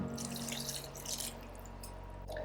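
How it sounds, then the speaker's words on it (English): Water is poured into a blender for a vegan mac and cheese sauce, splashing and trickling close by for about two seconds before it stops. "Now I'm adding 3/4 cup of water"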